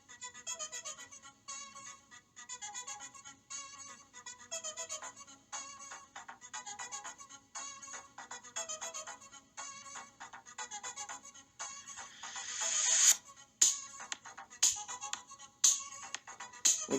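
Recording of a song with a bright, pulsing synth line in a rapid repeating pattern, joined later by sharp higher stabs, played fairly quietly with no talking.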